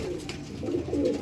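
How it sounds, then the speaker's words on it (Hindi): A large pigeon coos in low, soft, rounded notes, close by, with a steady background hum. "ये बड़ा कबूतर है"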